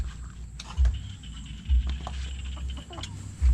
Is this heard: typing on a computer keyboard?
no